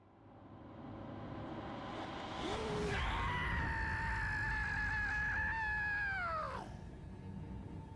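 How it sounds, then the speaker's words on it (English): A drawn-out, high, wavering scream from an enemy in the video game Shadow of War, rising sharply then holding for several seconds before falling off, loud and alone over a low game rumble. "That scream is a lot."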